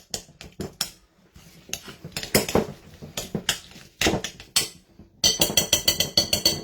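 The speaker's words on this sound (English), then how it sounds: "I'm just going to mix it all together. Break down any lumps." Mac and cheese ingredients being mixed in a bowl to break up lumps, a run of sharp clinks and scraping knocks of utensil against bowl, irregular at first then a quick rapid burst near the end, close and without talk.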